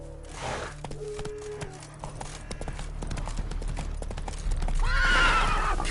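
Roach, a horse in the video game The Witcher 3, clip-clops along at a gallop, the hoofbeats quick and rhythmic and growing heavier, then gives a loud, close neigh near the end.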